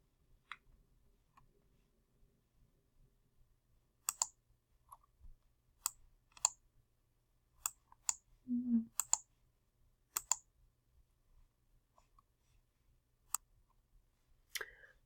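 Sparse, sharp computer mouse clicks in a quiet room while a MailerLite sign-up form is edited, about a dozen isolated clicks spread irregularly, with a faint low murmur midway.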